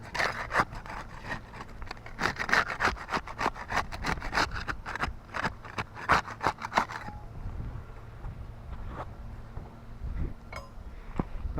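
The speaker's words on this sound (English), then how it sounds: "We'll get started with this putty knife. We'll use it to unseal shingle 7 there," Putty knife scraping under a roof shingle to break its seal, a quick series of sharp rhythmic scrapes and clicks that stop abruptly partway, leaving quiet background.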